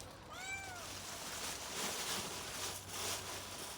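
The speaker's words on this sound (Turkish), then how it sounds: "Kedilerin böyle bağırdığını bilmiyordum ben" A cat lets out a drawn-out, wavering yowl near the start, followed by a low background hum and faint rustling.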